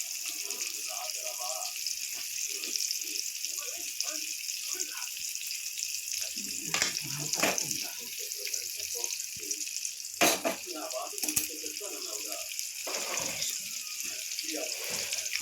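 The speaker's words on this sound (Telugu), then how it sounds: "కొంచెం సాల్ట్ వేసుకుంటే ఉల్లిపాయలు వేగుతాయి." Sliced onion and two green chillies frying in a pan, a constant close sizzle with intermittent stirring scrapes and clatters, soft talk passing in and out beneath.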